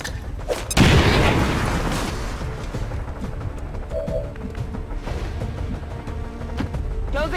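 A grenade detonates in the strategy game XCOM 2 (War of the Chosen) with a single loud, sharp boom that decays into a rumbling tail, followed by faint mechanical game sounds.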